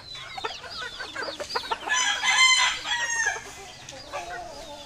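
Chickens cluck and squawk in a busy farmyard chorus, with a loud rooster-like call in the middle, fairly close and without talk.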